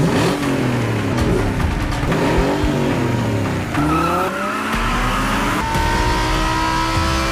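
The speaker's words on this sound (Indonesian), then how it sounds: "adu kecepatan dalam balapan lintas lurus atau biasa disebut drag racing" Drag racing cars roar past at full throttle, engines revving and climbing through gears with tire squeal, loud and continuous at close range with no voices.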